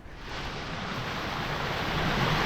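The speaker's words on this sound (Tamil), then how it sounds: "ஸோ தண்ணி எவ்வளோ அழகாக வருது பாருங்களேன்." Water pours over a mini waterfall near Chennai. The dense, even rush is loud and close, holding steady and swelling slightly throughout with no voices over it.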